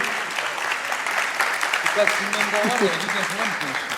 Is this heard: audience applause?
yes